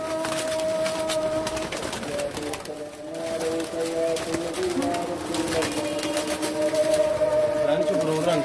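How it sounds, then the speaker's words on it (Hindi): A flock of pigeons, some freshly colour-marked young birds released for training, coos in layered, overlapping calls close by, with someone speaking over them. "ये इनके ये बाकी कबूतर हैं।"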